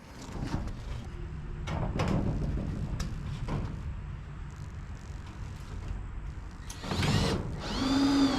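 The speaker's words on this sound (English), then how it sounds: "she's run that screw in" A power drill drives a screw into a metal roof sheet on a pig pen shed, with scattered clattering handling noises first, then short, loud whirring bursts near the end.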